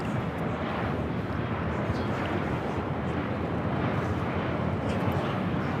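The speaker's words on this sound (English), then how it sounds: "This is Southwest Airlines 4320 coming in from Denver on the 737-700." A Southwest Airlines Boeing 737-700 arriving from Denver roars past close by, a dense, steady broadband jet rumble with wind buffeting that stays loud for the whole stretch.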